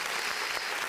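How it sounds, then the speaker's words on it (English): Studio audience applause, a steady dense wash of clapping heard close and loud across the whole short moment with no talking. "And the crowd goes wild."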